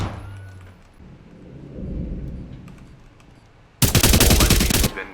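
Gunfire in the game Rainbow Six: a close, loud, sustained burst of automatic fire after a stretch of low rumbling ambience and faint distant clicks.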